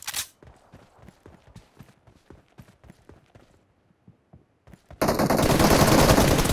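Gunfire in the mobile shooter PUBG Mobile, a rapid string of close, punchy shots in uneven bursts, a short pause, then a loud sustained roar of noise swelling at the end.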